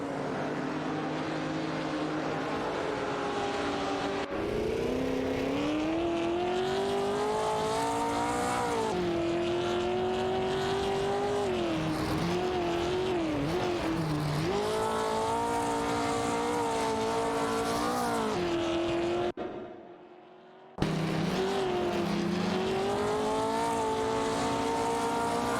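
Several race cars in an AI-driven racing video game roar steadily with rising and falling engine pitch as they overtake, loud and continuous, with a brief cutout near the end before the engines resume.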